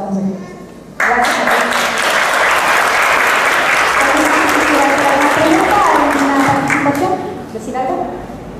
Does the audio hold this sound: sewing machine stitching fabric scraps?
no